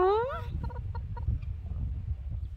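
A fierce farm rooster gives a loud, rising call up close, then a run of short, clipped clucks at an uneven pace.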